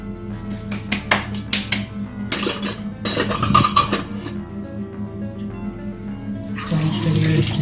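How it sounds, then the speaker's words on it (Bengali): Water from a kitchen tap splashes in a sink while something is rinsed during egg toast preparation, coming in bursts with clinks and snaps between, then a steady rush of flow at the end; close and fairly loud. "ধুয়ে নিলাম।"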